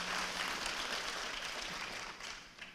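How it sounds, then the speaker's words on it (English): A university audience at a community welcome session applauds in a dense, steady roar of many hands clapping, close and sustained before tapering off slightly at the end. "a round of applause for them"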